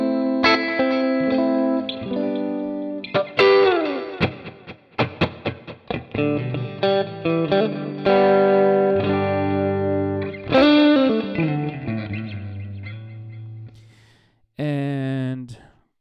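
Clean electric guitar tone from a Stratocaster through a Mesa-based amp, with a series of ringing chords and single notes played up close, some sustained and some short and choppy, with brief pauses between phrases.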